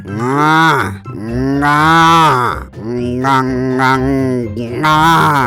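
A man imitates a cow, giving several long, loud, drawn-out moos close to the listener with brief breaks between them.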